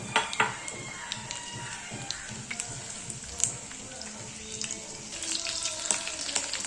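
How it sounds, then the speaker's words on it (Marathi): Green chilies and garlic frying in a pan, a soft continuous sizzle with scattered crackles and pops, fairly quiet and close, with some brief talk. "हिरवी चिली चांगली भाजून द्यायची आहे"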